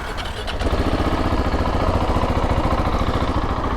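A KTM 690 Enduro R motorcycle engine cranks and fires, then settles into a steady, loud, close single-cylinder idle with a fast regular thumping pulse.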